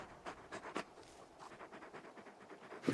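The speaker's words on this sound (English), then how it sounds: "You're just a big puppy, aren't you? A very big puppy." Torgal, a large wolf-like hound in the video game Final Fantasy XVI, pants close by in quick rhythmic breaths, moderately loud and alone, ending in a brief louder burst.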